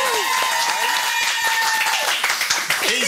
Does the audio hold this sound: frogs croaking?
no